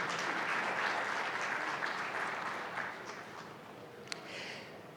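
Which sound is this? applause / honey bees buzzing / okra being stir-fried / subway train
applause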